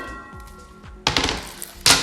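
Bali ginger coffee crushed on a cutting board, giving two heavy, close thumps with a clattery rattle about a second apart after a quiet stretch.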